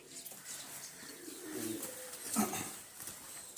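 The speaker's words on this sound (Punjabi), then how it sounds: "ਅੰਦਰ ਕਬੂਤਰ ਵੀ ਵੀ ਆ ਪਿੰਜਰੇ 'ਚ" Pigeons cooing in a cage, soft low throaty coos repeating in short bursts amid faint background noise, with one louder coo near the end.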